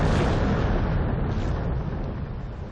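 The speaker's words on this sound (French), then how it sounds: "c'est l'explosion du vaisseau amiral français l'Orient" A massive, sustained roaring explosion depicting the French flagship L'Orient blowing up in a naval battle, loud and broad, rumbling on while slowly fading.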